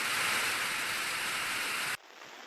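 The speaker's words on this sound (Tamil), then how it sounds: "ராசிபுரம் மற்றும் சுற்றுவட்டார பகுதிகளில் பலத்த காற்றுடன் கூடிய கனமழை பெய்தது" Heavy rain with strong wind pours down around Rasipuram in Tamil Nadu, a dense, loud, unbroken roar that cuts off sharply after two seconds into a quieter background.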